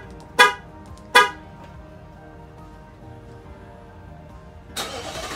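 A Nissan Titan pickup truck sounds two short horn chirps a second apart, then after a pause its engine turns over and settles into a steady idle, heard close up.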